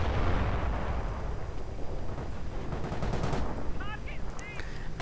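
Artillery fires in the Company of Heroes strategy game, with a loud low boom at the start rolling into rumbling blasts, followed by a few sharper cracks and faint whistling shells.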